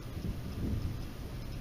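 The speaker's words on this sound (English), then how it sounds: "So you may hear outside some thunder." Low rumbling thunder from outside during a Florida afternoon thunderstorm in July, a steady, fairly quiet roll with rain noise underneath and no talking.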